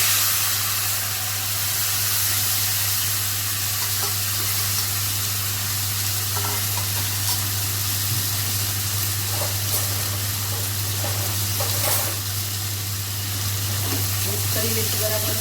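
Cluster beans (gawar) go into a hot pan with garlic chutney, giving a steady close sizzle and frying hiss under a constant low hum, with occasional stirring clicks.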